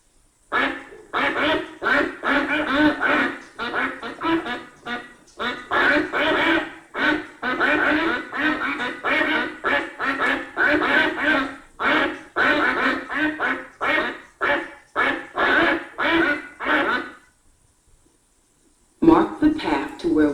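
Loud, rapid duck quacking close by at a city duck pond, a busy continuous chorus of calls that stops briefly near the end before resuming.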